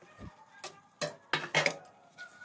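Sugar and a little batasa being stirred in a pan, with a spoon scraping and knocking against the metal in a few uneven bursts, close and moderately loud, no voices.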